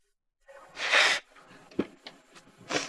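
Wet sniffling and snuffly breaths, a long blowing sniff followed by shorter sharp sniffs, close and fairly loud with no talking.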